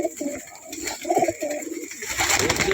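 Pigeons offered for sale coo in soft, repeated low throaty calls, close by, with a rustle of other birds and a brief burst of fluttering near the end.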